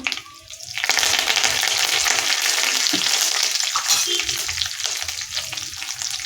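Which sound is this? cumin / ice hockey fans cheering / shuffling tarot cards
cumin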